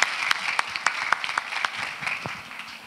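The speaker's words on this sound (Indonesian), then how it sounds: "Tepuk tangan dulu untuk Kak Deris." An audience at an international relations careers session applauds a speaker being welcomed, with sharp individual claps standing out over a steady bed of clapping for about three seconds.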